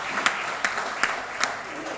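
Audience applause for a poet at a Haryanvi comedy poetry stage show: a steady, moderate wash of clapping with a few sharper claps standing out at a regular pace, with no talk over it.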